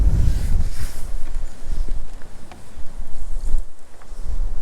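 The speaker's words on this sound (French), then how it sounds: "cette rafale me fait mal" Strong winter wind gusting beside a canal during a fishing outing, a continuous low roaring buffet that swells and dips without a break, with no talking.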